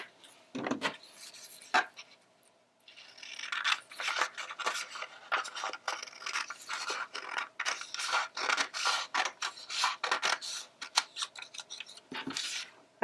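Scissors snipping scrap craft paper into an inch-wide handle for a carrot Easter basket: quiet, close, irregular crisp cuts and rustling paper, with a brief pause near the start.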